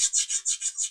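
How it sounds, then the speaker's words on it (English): Sanding a part for a PUP model aircraft fuselage by hand, six even back-and-forth rasping strokes in a steady rhythm, close and clear with no talking. "gently sanding along that line"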